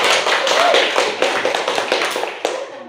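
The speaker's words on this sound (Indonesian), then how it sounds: "Tepuk tangan buat Alfi dan Tete" A classroom of students applauding two classmates, a dense, fairly loud burst of clapping with scattered sharper claps that fades toward the end, with faint voices underneath.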